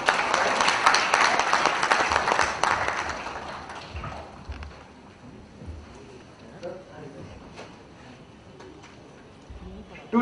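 Applause from a conference audience honoring dignitaries on a stage, dense clapping loudest at first, then fading into a low murmur of scattered claps and room noise.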